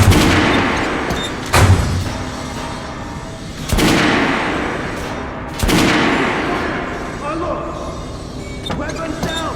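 Gunfire on a shooting range in the video game Metro Last Light: three loud, sharp shots spaced a couple of seconds apart, each followed by a rumbling tail, over a busy background with some talk.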